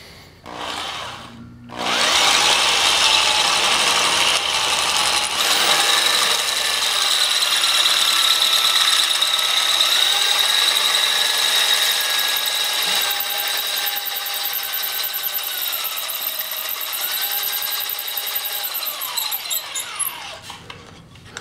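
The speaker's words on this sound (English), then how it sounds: "Now I'm going to drill it again with 1/2 inch." Half-inch drill boring through a cam for a rear pump drive, a loud continuous high-pitched grinding whine with wavering pitch that starts after a brief pause and runs steadily to a slowing finish.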